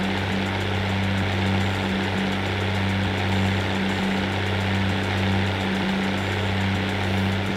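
Tractor engine in the farming video game Professional Farming Cattle and Crops, a steady, loud mid-pitched idle with an even throbbing hum and no pauses.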